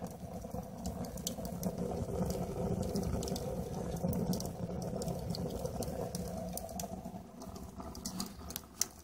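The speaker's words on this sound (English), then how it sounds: "Making a nice rockety sound." A rocket stove heater burning in a workshop gives a steady, low roaring rush with faint crackles and ticks layered over it, continuous and moderately quiet throughout.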